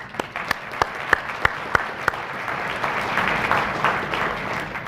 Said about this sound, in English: So I really do want to applaud them.